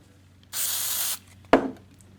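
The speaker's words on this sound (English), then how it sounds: "Spray some on a rag" A short, steady hiss of WD-40 aerosol spray onto a rag lasts about half a second, followed by a soft thump and rubbing sound nearby.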